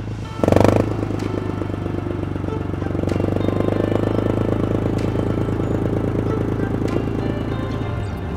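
A boat's engine starts with a brief loud burst, then runs at a steady idle, a continuous rumbling drone close by that stays even for several seconds.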